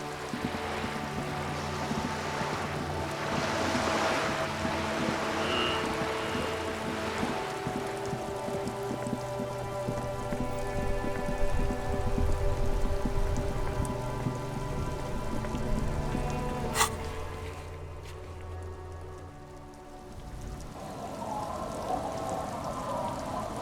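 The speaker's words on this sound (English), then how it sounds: "It's getting late, and it's raining." Steady rain falls in the video game Disco Elysium as a dense, even hiss with faint tonal music-like layers beneath, holding for the whole stretch before thinning slightly near the end, with no voices.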